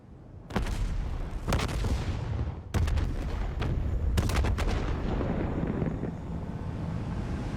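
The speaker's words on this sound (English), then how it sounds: "Hendricks, we have multiple explosions across the facility" Several loud explosive blasts and bursts of gunfire ring out in sequence across a facility in the video game Call of Duty: Black Ops III, with a continuous rumbling roar of battle behind them.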